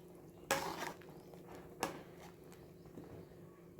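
Quiet stirring of mutton curry in a pot, with a few sharp scrapes and clinks of a utensil against metal, spaced apart over faint background hum.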